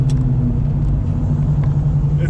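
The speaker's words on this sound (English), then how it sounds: "it's a good thing my neighbors like my loud cars" A nitrous-injected New Edge Mustang engine idles loud and deep, a heavy, lumpy rumble held close and steady for a couple of seconds.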